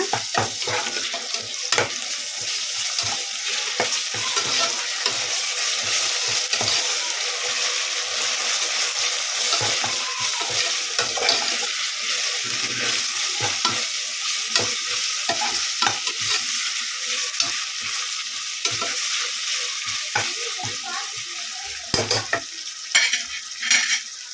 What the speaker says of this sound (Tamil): இப்போ நம்ம இஞ்சி பூண்டு இதில் ஆட் பண்ணிடலாம் பேஸ்ட்டு இதே நல்லா மிக்ஸ் பண்ணிட்டுங்க